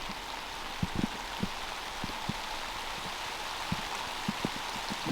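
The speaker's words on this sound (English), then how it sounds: "Wasn't even supposed to really rain." Steady rain falls outdoors around an old house site, a constant soft hiss with scattered nearby drops tapping on surfaces.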